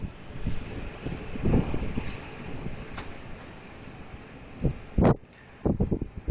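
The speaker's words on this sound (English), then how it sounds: "the wind catches it, because it's just so powerful right now" Strong blizzard wind blows down a Chicago street, a steady rushing buffet against the microphone with louder gusts and thumps near the end.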